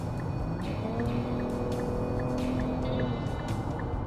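A 2022 Nissan Rogue accelerates to merge into traffic, its engine holding a steady, rising drone heard from inside the cabin, with a faint regular ticking over the road noise.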